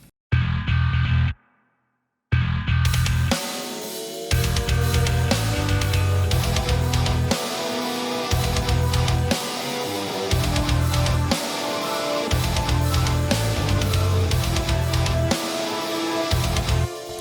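A symphonic metal song recording plays its metal section: dense, loud distorted guitars and heavy pounding drums with orchestral layers, broken by a brief dropout near the start before the full band returns and drives on steadily.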